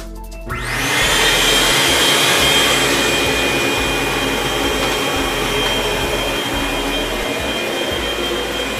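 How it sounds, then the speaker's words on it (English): A shop vacuum switches on in a workshop with its doors open and roars steadily, a loud continuous whine and rush that holds level for several seconds with no talking. "I'll turn the vacuum on to show you the amount of sound created"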